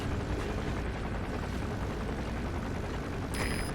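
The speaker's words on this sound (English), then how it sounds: "There's a chopper landing." Helicopter coming in to land in the game Metal Gear Solid V: The Phantom Pain, a steady broadband rotor and engine roar held at an even level throughout, with no talk.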